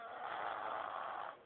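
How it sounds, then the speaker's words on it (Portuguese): A three-year-old girl snores with one long, raspy, breathy rush. It is soft but close, continuous for over a second, then fades, with no talk over it. "E tome ronco na orelha do tio."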